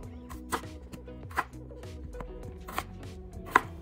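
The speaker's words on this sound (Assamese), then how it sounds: "আলুকেইটা মই টুকুৰ টুকুৰকৈ কাটি ললোঁ" Two potatoes chopped into pieces on a board with a knife for a chicken curry, giving sharp close thuds at an uneven pace with no talking.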